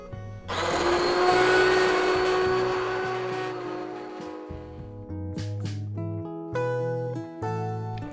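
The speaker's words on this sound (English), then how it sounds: "Or if you have a stick blender, it's really handy to just put this in and blend up approximately 1/3 to 1/2 of the soup." A stick blender whirs loudly through a pot of vegan potato soup in one long sustained run, then cuts out and restarts in several shorter bursts, with music playing underneath.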